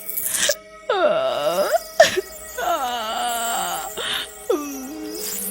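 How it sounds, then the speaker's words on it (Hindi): Ghostly crying and wailing inside a haunted lift, rising and falling moans in several separate drawn-out phrases with sharp breaths between them, loud and close. "लिफ्ट में किसी के रोने की आवाज आने लगती है"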